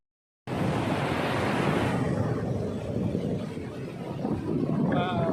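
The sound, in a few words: sea waves breaking on a beach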